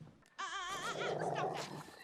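A dog in a Walking Dead episode gives a run of high, wavering whimpers and whines over a low noisy background, loud and close, lasting about a second and a half.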